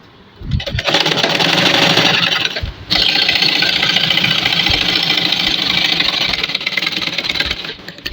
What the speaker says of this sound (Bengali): এখন হাতা উল্টা সাইডে সেলাই করলাম